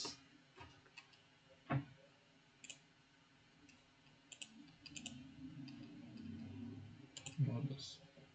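Computer mouse clicks at a desk: scattered sharp, quiet clicks at irregular intervals, close by, with a low background murmur building toward the end.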